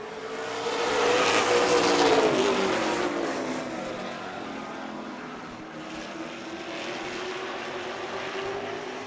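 A pack of pro stock race cars drones around the track late in a race, engines swelling as they pass near around the two-second mark, then fading into a steadier, slightly distant roar with one car's pitch sliding downward.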